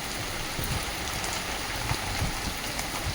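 Heavy, steady rain pours down in an unseasonal downpour, a dense continuous wash with scattered louder drops on a surface, alone with no voices.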